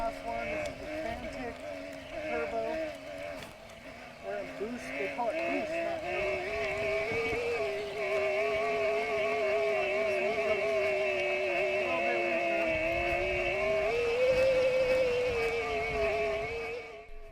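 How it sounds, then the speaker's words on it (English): A Brose 2.1 e-bike motor on a Fantic bike with Mavic D-Max wheels whines steadily, its pitch rising and falling with pedaling, under wind and rolling noise, with a voice talking over it. "Let's take a listen to the Brose motor and see if it sounds different."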